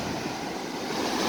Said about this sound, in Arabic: البحر جايب العمره مزيان ولكن زوين، فيه مويجات زوينين